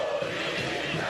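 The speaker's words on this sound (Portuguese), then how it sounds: "Agora é o hino corintiano que está sendo entoado pela torcida." Corinthians fans singing the club anthem in the stadium at a Copa do Brasil match against Bahia de Feira, a brief dense roar of massed voices rising from the stands.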